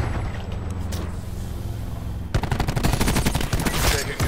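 Rapid bursts of gunfire in Call of Duty Black Ops 4 play, dense and loud in the second half after a quieter stretch of game noise at the start, close with no clear speech.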